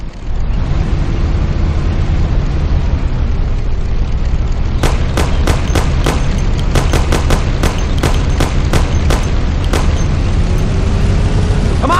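A Thompson submachine gun fires in a video game, sharp rapid bursts and single cracks over a loud constant engine roar; the shots cluster in the middle stretch, close and punchy.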